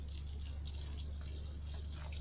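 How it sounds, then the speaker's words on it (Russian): A faint, steady rush of running water flows continuously, low and even throughout, with no voices. "Вода течет."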